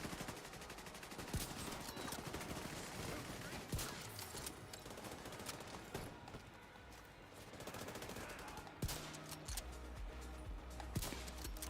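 Continuous automatic gunfire aimed at a barrier in The Division 2, dense and steady with sharper individual shots standing out, set against a busy layer of game noise.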